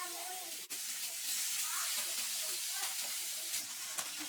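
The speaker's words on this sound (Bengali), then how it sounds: "তেলে তেল দিয়ে তেলটা গরম হলে মাছটা ভাজতে দিয়ে দিয়েছি।" Fish sizzles steadily in hot oil in a pan, a soft, even hiss with faint crackles throughout and no talking.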